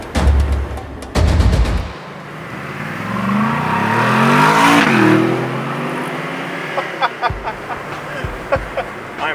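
A Mercedes G-Wagon pulls away at full throttle in a drag race, loud engine roar climbing in pitch as it revs up, preceded by heavy thumps and rustling near the microphone, with clicking noises toward the end.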